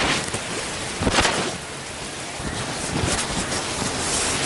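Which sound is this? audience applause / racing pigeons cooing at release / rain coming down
rain coming down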